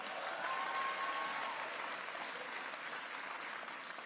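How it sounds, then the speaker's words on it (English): Applause at a gun control announcement, a continuous, even patter of many hands clapping heard from a distance at low level, with a faint tone near the start. "Let's give a big round of applause"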